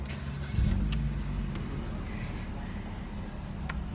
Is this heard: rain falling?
no